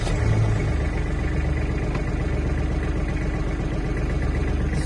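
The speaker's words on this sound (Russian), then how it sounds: "Трактор у нас запускается через сцепление." A Kubota KL-25 mini tractor with a cab runs its engine, a steady close diesel idle with even low chugging and light mechanical clatter, no talk over it.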